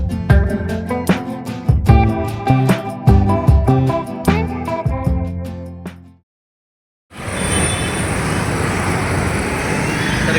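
Road traffic at the Golane Naka bus stop: a dense, steady roar of passing vehicles rises abruptly in the final few seconds, after a stretch of music and a short silence.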